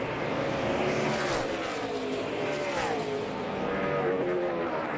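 NASCAR stock cars race at the Ford 400, a loud roaring wall of engines with pitch sweeps as cars pass, continuous over five seconds with some crowd wash beneath.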